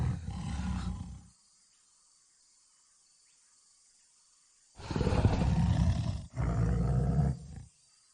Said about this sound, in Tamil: அந்த புலி வந்துருச்சு.